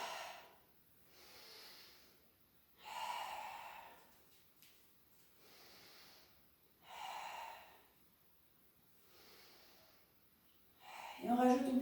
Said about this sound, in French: Je descends, j'inspire. Dos droit, expire et monte.